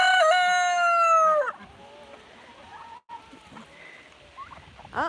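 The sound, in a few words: rooster and fowl on a farm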